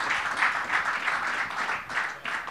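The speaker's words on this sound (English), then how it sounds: "Another round of applause for Owen." An audience at a business conference gives steady applause for a 17-year-old entrepreneur, a dense, continuous wash of clapping at moderate distance with no voices standing out.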